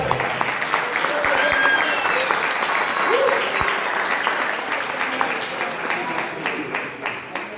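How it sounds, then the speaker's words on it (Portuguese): A church congregation claps loudly and continuously, dense applause with some cheering voices and a few sharp close claps, tapering slightly toward the end. "Dê um aplauso ao Espírito Santo."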